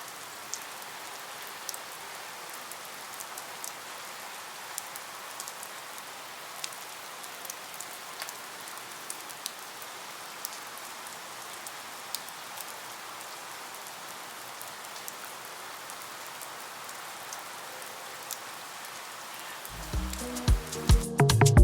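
Steady rain falls on a surface with a soft, even hiss and scattered light drops. It continues unbroken and fairly quiet, then a brief louder knocking rustle comes at the very end.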